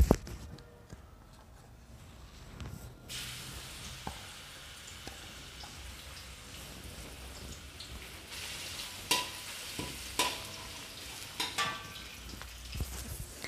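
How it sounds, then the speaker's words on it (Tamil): Garlic sizzles in a little oil over a low flame for chicken soup, a soft steady frying hiss broken by scattered clicks and scrapes of stirring. "பூண்டு போட்டு தாளிக்க போகிறோம்."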